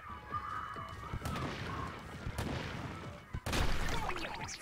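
A Splatoon 2 video game player shoots ink at a giant bowling ball, making a rapid string of sharp splatting bursts that grow denser and louder toward the end over game music.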